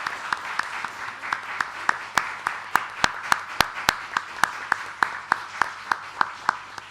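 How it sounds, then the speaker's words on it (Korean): A church congregation applauds at a pastor's retirement service with a steady, even wash of clapping, and a few sharper claps stand out in a regular rhythm. "우리 박수로 축하 부탁드리겠습니다"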